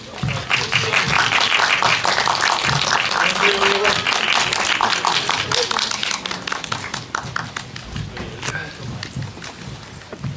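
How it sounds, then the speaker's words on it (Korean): Loud crowd applause and cheering fill a Hongdae CGV cinema as the cast of the Korean firefighter film 소방관 comes out for a stage greeting, dense clapping sustained throughout with voices mixed in. "여러분들의 힘찬 응원의 박수 부탁드리겠습니다"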